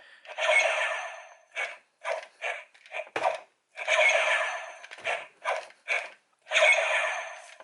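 A burst of electronic attack effects from a Dino Knight Morpher toy: several short, punchy zaps and whooshes in quick succession, with longer bursts at the start, middle and end.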